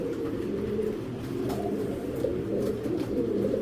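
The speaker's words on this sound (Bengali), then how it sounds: "এআরপিসিডি ক্লাবের রেস করা একটা মাদি।" A race-flown ARPCD club hen racing pigeon coos close by in a low, steady, droning purr that carries on continuously for the whole stretch, with faint clicks of handling over it.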